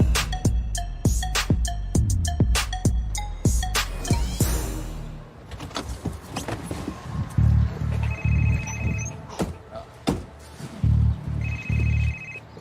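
A telephone rings in repeated bursts, bright trilling chirps standing out over a busy, pulsing music bed.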